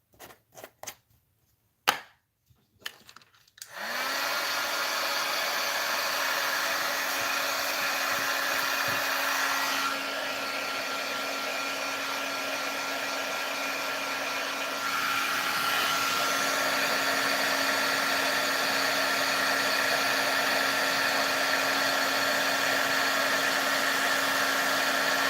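A heat tool blows hot air to emboss a stamped sentiment, a steady whooshing hum that starts after a few quick clicks and handling knocks and continues alone to the end.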